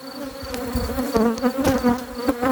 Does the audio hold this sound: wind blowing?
no